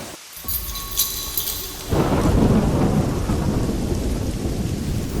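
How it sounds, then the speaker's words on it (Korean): Rain pours steadily on a moving day, and a rumble of thunder builds partway through before giving way to a loud, continuous downpour that hisses close by, with no talking. "하필 이삿날 비가 오네요."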